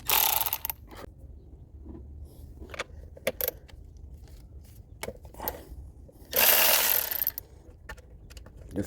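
A ratchet works two 10mm bolts on the engine of a 2005 Toyota Camry 2.4L during fuel injector replacement, giving scattered metallic clicks and short bursts of ratcheting, up close with quiet gaps between them.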